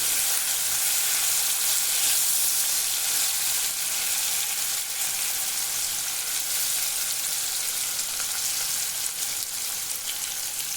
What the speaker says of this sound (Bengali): আলুটা ভালো করে নেড়ে নিচ্ছি